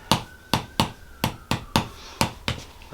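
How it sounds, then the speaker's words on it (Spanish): Eight sharp, evenly spaced taps from a small chiropractic hammer striking the lower back and sacrum during an adjustment, close and crisp, with no talk. "Un martillo más pequeño porque no quiero usar mucha fuerza."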